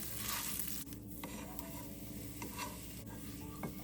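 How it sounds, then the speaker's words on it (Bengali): Boiled potato being stirred into spices in a hot pan, giving a steady close scrape and sizzle of frying food for about four seconds, with no talking. "এবার আমি এর মধ্যে দিয়ে দিচ্ছি সেদ্ধ করে রাখা আলুটা"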